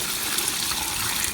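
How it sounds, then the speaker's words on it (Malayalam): Cow dung slurry, a liquid tonic for vegetable crops on a terrace garden, is poured steadily onto the base of a guava plant. It makes a continuous close gushing splash that runs alone throughout, with no voices. "നമ്മുടെ പേരത്തേക്ക് ബാക്കി ഒഴിച്ചു കൊടുക്കാം"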